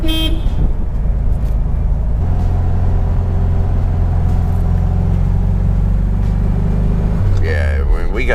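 A 1967 VW Beetle engine idles steadily after its timing and carburetor are set, a close, loud low rumble with shifting pitch, and a voice speaks over it.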